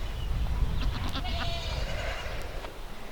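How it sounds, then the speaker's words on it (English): Female goats in a barn bleat over a steady low rumble of barn noise, several scattered calls overlapping at moderate distance. "all my female goats. Ones that are in the barn."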